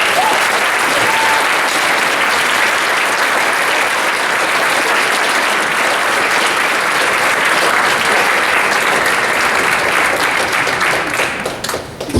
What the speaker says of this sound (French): J'aimerais vraiment ça qu'on leur donne une bonne main d'applaudissement pour leur investir.